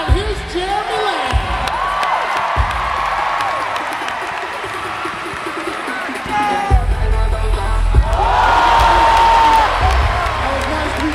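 A large crowd roars at a university dunk contest on UConn's First Night 2011, with sustained cheering, whoops and scattered clapping that swell loudly near the end.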